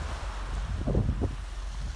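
Sea waves washing over a pebble beach, a soft continuous wash with gentle swells rising and falling, fairly faint, with some wind rush and no voices.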